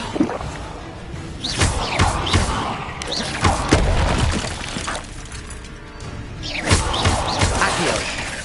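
Accio summoning spell cast in the game Hogwarts Legacy: repeated whooshing magical bursts with thuddy impacts and crackly shattering textures over several seconds, close and fairly loud, with game sound effects layered throughout.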